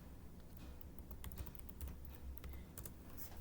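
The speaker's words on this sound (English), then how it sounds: "I'm going to type" Faint, scattered keyboard clicks come through as letters are typed into Excel spreadsheet cells, set against a low steady background hum, with no voices.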